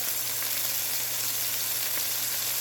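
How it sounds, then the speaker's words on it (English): Chicken thighs and onions sauteing in a pan, a steady dense sizzle and crackle that stays loud and close throughout, with no talk. "right now I have a few chicken thighs. Sauteing with some onions,"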